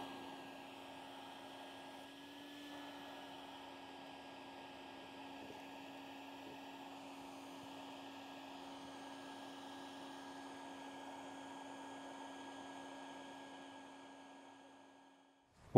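A vacuum sucks yellowjacket hornets out of a dug-up nest, a continuous steady motor whine and airy rush holding the same pitch throughout, fairly quiet and with no talking, cutting off sharply at the very end.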